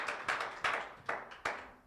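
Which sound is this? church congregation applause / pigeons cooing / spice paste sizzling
church congregation applause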